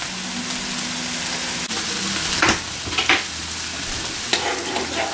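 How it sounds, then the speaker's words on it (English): Onions and leeks sizzle steadily in a pan for risotto, a continuous frying hiss broken by a few louder scraping stirs of a spoon or ladle against the pan, close and clear with no talking. "Once you get all your onions and your leeks mixed in there"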